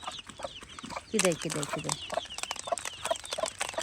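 A brooding hen with her fifteen three-day-old chicks clucks and cheeps while being fed, a burst of hen clucks standing out amid steady high peeping, with someone talking briefly close by.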